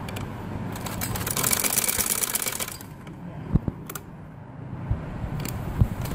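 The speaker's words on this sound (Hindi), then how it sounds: "इस तरह मैं मशीन की सिलाई लगा दूँ।" A sewing machine stitches a rounded neckline on a kameez, its rapid mechanical rattle loud for about three seconds, then easing into quieter running with a few sharp clicks as the fabric is turned.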